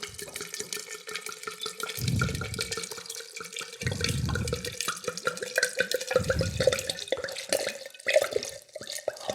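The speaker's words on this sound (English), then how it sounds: "we're just going to pour this right in" White wine glugs from a whole bottle into a pitcher of summer fruit sangria, a close liquid pour in rhythmic surges with gurgling bursts every couple of seconds over soft splashing.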